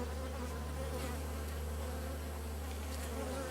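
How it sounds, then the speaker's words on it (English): Honeybees flying in and out at a hive's flight board in early spring, a steady close insect buzz with several bees droning continuously throughout over a low constant hum. "if you see bees coming straight out and coming straight back in"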